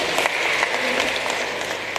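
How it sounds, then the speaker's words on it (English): Applause from mourners at a funeral service for James Maina, a steady broadband wash of clapping hands lasting throughout at moderate loudness. "Give him a big clap."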